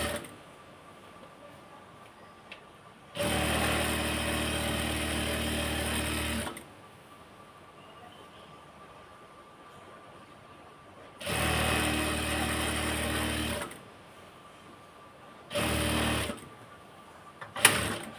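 A sewing machine runs in three separate stitching bursts along a salwar seam, each a steady, loud whir that starts and stops abruptly, with quiet gaps between and a short final run.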